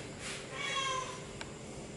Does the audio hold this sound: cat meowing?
yes